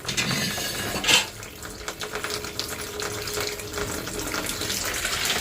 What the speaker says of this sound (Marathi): हे बघा खूप खराब पाणी त्यामधलं जात आहे